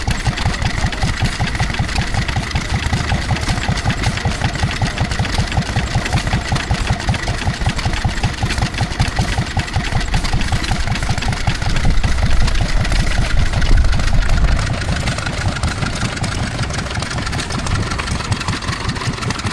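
Lister D stationary engine running at the Netley Marsh steam and craft fair, a loud, close, steady rapid chugging beat that swells briefly in the middle, with no talk over it.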